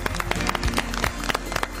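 A studio audience at a Chilean television show claps in dense, steady applause that fills the whole short stretch at an even, moderate loudness.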